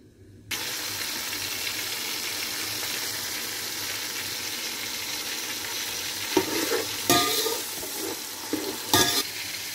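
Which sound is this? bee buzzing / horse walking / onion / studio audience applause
onion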